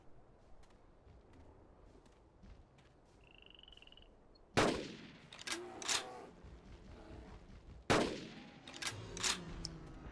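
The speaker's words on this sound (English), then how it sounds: "Well, this is pretty far for a shot." Two loud, sharp gunshots ring out in the dinosaur-hunting game Carnivores: Dinosaur Hunt, several seconds apart, each followed by echoing reports, over a quiet outdoor ambience with faint croaking.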